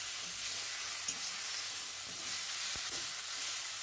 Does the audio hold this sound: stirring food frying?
yes